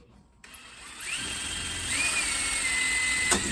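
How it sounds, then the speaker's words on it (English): A power drill spins up and whines steadily while drilling holes in camper window trim, its pitch rising and settling, with a brief sharp click near the end. "Just drill carefully."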